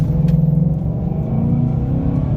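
Engine of a 2014 GMC Sierra pickup fitted with a Pedal Commander throttle controller, revving at under half throttle in Sport Plus +4 mode: a loud, steady low rumble that swells slightly, with no talk.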